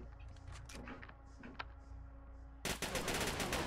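Gunfire in the zombie survival video game The Wicked Days: a few scattered shots over a steady game hum, then a dense, loud burst of rapid firing at the end, with no talking.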